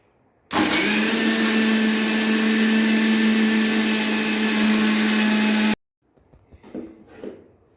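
A mixer grinder grinding rice into dosa batter runs as a loud, steady motor whine for about five seconds, then cuts off abruptly, leaving faint clatter and handling noises.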